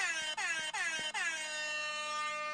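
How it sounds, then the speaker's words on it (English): A loud air horn blasts three times in quick succession, then holds one long sustained blare. "let's try something new in air horn"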